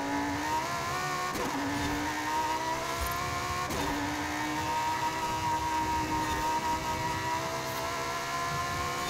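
Lamborghini Super Trofeo race car engine in Forza Horizon 5 holding a steady high drone, with two sharp gear shifts breaking the tone before it settles again, loud and continuous with no talking.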